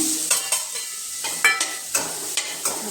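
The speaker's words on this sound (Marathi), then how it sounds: "आपण तेलामध्ये छान परतून दिलं" Onion, garlic, masala, turmeric and red chili powder fry in hot oil in a lively sizzle, with a spoon scraping the pan in quick, regular strokes and no voices.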